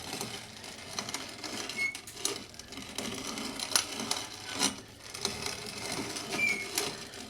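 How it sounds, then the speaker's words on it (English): Electric grain grinder with a screw-type feed grinding acorns into flour, giving a steady mechanical whir with scattered clicks and rattles of nuts, moderately close and without speech. "There's a screw type feed that feeds it into the grinder head."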